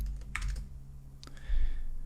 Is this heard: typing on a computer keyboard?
yes